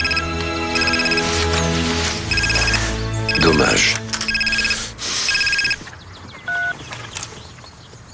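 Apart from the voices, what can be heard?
mobile phone ringing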